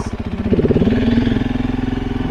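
A 2021 KTM 690 Enduro single-cylinder motorcycle engine runs close by, its steady pulsing thump revving up briefly then settling back toward a rumbling idle, loud and with no talk.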